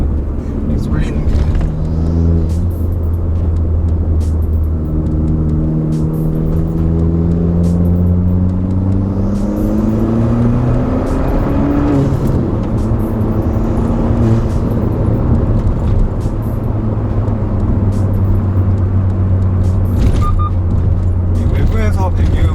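Deep engine exhaust of a 2019 Hyundai Veloster 1.6 turbo with manual transmission drones steadily from inside the cabin, rising and falling in pitch as it accelerates and shifts, a constant low rumble throughout.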